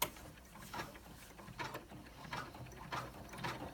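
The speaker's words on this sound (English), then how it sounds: "I'm going to go straight into stitching the placements for the fold over" An embroidery machine stitches placement lines for fold over elastic on an in-the-hoop credit card wallet, giving a faint, rhythmic mechanical clatter of repeated needle strokes, close and alone.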